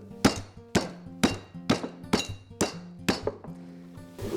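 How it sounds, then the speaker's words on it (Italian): A meat mallet strikes pork loin slices on a kitchen surface, seven sharp, evenly spaced thwacks with a faint metallic ring, close and loud with short quiet gaps between blows. "Ora queste bisogna batterle e allargarle, usate il batticarne, il martello"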